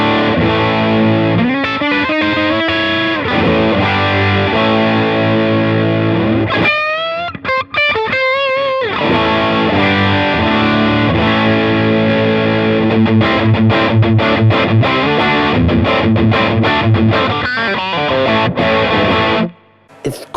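An electric guitar plays through a bright high-gain overdrive pedal, loud, saturated chords and riffs with sustained distorted notes and quick picked runs, alone without talking.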